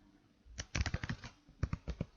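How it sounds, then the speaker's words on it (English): Keys clack on a computer keyboard while list entries are typed into Python code, two quick bursts of close, crisp strokes with a short pause between, no talking. "I'm just going to type in"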